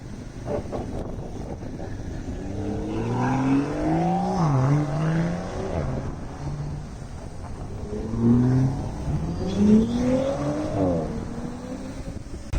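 A Lamborghini Huracan Technica drives through everyday Mumbai traffic, its engine rising and falling in two revving passes over a windy street background.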